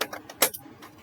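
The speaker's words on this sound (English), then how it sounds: "I'm going to take my scissors from there, and I'm going to cut" Metal scissors are picked up and handled before cutting card for an envelope card, giving a few quick, close clinking taps within about a second.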